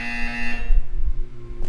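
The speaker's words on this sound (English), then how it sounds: "You will hear a buzzer." Buzzer in the video game Portal 2, a loud, harsh electronic tone held for about half a second and then cut off, leaving a low hum with a faint electronic blip at the end.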